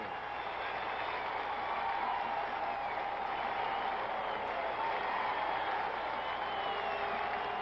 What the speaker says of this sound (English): It's a standing ovation at the new Madison Square Garden.